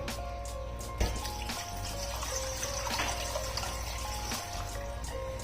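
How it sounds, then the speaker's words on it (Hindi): Three glasses of water go into a cooking pot with cinnamon, black cardamom and bay leaves for a chicken pulao, a close, steady gush and splash that runs for several seconds. "इसके साथ ही मैं डाल दूँगी 3 गिलास के जितना पानी"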